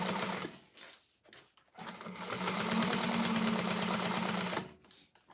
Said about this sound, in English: Right where it starts and stops, I always do a back stitch.